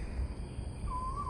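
An owl calls once outdoors in a wild, seaside nature setting: a brief, clear tonal hoot near the end, heard over a steady background hiss.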